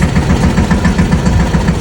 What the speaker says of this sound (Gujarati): ટ્રેક્ટર ચાલુ કરવાની,